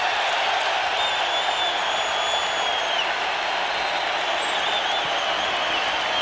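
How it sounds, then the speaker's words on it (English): A crowd at McNichols Arena gives a standing ovation during a 1994 NBA playoff game between the Seattle Supersonics and Denver Nuggets, with loud, steady applause and cheering that fill the arena without a break and occasional whistles above it. "A standing ovation."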